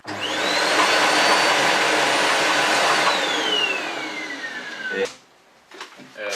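A vacuum cleaner whines loudly and steadily, its pitch sliding down as it powers off, followed by a few knocks and clatters.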